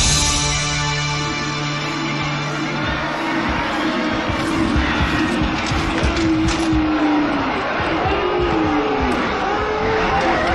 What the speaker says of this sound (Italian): Una bella folla.